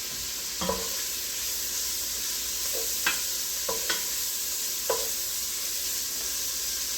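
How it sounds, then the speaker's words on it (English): Bacon rendering in a pan for a smoked gouda carbonara gives off a steady, faint sizzle throughout, broken by a few soft stirring clicks and scrapes, with no talking. "You just want the bacon rendered."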